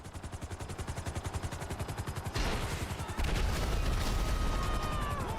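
Merryweather mercenaries in GTA Online fire their weapons in rapid, rhythmic automatic bursts that give way to a heavier, denser barrage of gunfire and booms, all loud and close.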